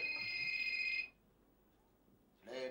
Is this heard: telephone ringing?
yes